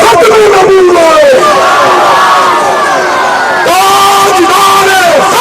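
A large crowd at a religious gathering shouts a rhythmic religious slogan in unison. Loud massed voices rise and fall through repeated call-and-response chants with a brief break midway.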